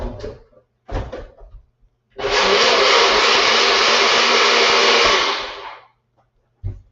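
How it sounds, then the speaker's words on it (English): A NutriBullet blender whirs steadily for about three and a half seconds, loud and close, pureeing spinach black bean soup, with a few handling knocks before and after. "I'm going to actually do it in my NutriBullet."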